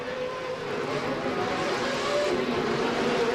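Toyota engine in an off-road race truck revving hard at around 9,200 rpm, a loud sustained high-pitched scream with steady drone and no pauses throughout.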